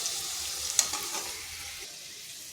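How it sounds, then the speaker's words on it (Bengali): Potato pieces frying in a pan while being stirred make a soft, quiet sizzle with a brief clink of a utensil early on, fading slightly toward the end. "এইভাবে নেড়ে চেড়ে একটু লাল লাল করে ভেজে নিতে হবে।"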